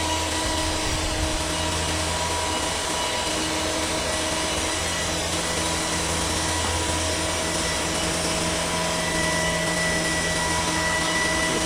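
Large saw cutting through big logs held in a clamp, producing a steady, loud, continuous droning whine that holds unchanged throughout.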